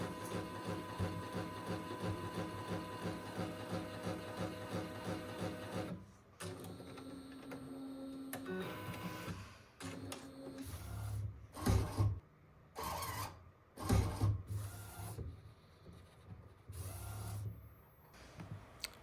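An Inksonic R1390 inkjet printer set up for DTF transfers runs a nozzle cleaning cycle. A steady mechanical whir gives way to irregular motor bursts, clicks and pump pulses, fairly close and with no voices.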